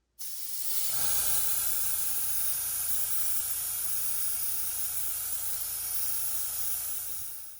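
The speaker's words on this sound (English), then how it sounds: "So I have the orange paint in the airbrush, so let's get started." An airbrush spraying orange paint onto HO scale model railroad pieces, a close, loud and steady hiss that starts abruptly and runs unbroken for about seven seconds before easing off.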